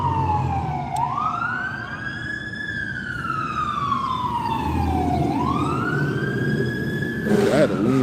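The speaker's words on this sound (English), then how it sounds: "Ambulance going by." An ambulance siren wails past nearby, its pitch sweeping up and down in a loud rising-and-falling cycle over steady traffic rumble, with a brief burst of extra noise near the end.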